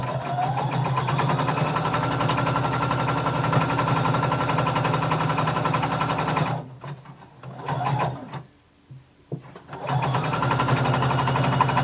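Sewing machine stitching a long side seam at regular stitch length, a loud close steady whir that stops briefly for a few seconds of rustling before running again.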